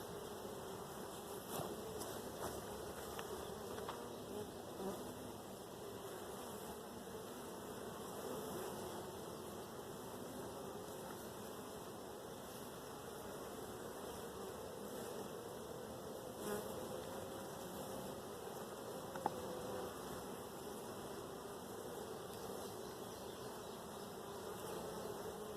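Honey bees buzz steadily around open nuc hives during an inspection, a low, continuous, even hum of many insects with no talking, quiet and unchanging.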